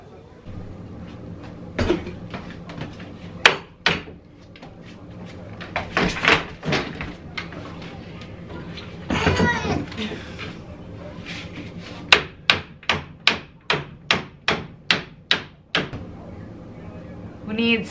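Hammering with a makeshift tool instead of a real hammer during a closet declutter and organizing job: scattered knocks at first, then a rapid run of about nine sharp, evenly spaced strikes near the end.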